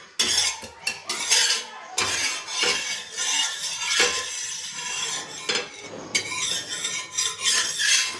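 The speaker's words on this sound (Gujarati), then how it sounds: "તો તેલ આપણે આખામાં ફેલાવી દીધું છે" A spoon scrapes and rubs oil across a hot griddle pan for leftover roti tacos, giving a steady metallic scraping with repeated strokes close up, no talking.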